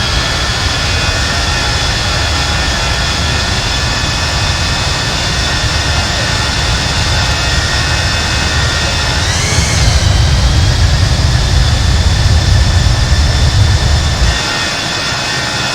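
A Boeing 737-800 in a flight simulator roars through takeoff, its jet engines producing a loud, steady, dense rumble with a high whine that sweeps upward partway through, the low thrust swelling before easing near the end.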